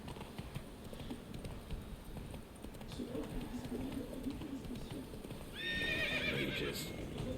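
Roach the horse from The Witcher 3 game, hooves clip-clopping steadily and close, then a loud high neigh near the end, over faint ambient birdsong and background game sound.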